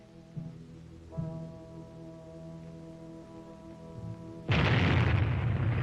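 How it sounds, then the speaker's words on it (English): A bomb explosion in an old civil defense test film, heard as a sudden heavy roaring blast that follows a steady low humming tone and stays loud and sustained to the end. "The moments tick away as we await the bomb and the fireball."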